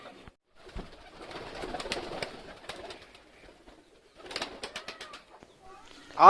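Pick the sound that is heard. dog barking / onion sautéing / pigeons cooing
pigeons cooing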